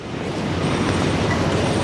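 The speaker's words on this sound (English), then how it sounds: "Here comes another tram." A tram passes along a city street on Park Street in Sydney, a brief steady rumbling roar of wheels on rails, fairly close, with no talk.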